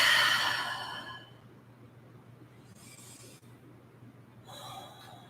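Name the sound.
open mouth breathing exhale during yoga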